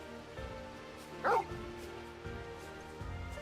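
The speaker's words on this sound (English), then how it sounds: "that was the dog's way of saying you're welcome" A single short dog bark or yip from the video game Final Fantasy XVI, brief and fairly quiet against a low background.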